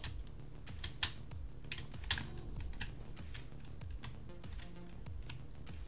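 A computer keyboard clatters quickly and steadily up close while Ghostrunner is played on mouse and keyboard. Irregular bursts of key taps run throughout with a few sharper clicks, and no one speaks.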